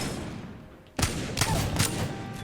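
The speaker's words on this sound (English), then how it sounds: "You're going to want to shoot, reload, then you can put your gun away." Gunfire in the video game Apex Legends: after a quiet second, a loud volley breaks out, followed by two more sharp bursts roughly half a second apart, close and dominant.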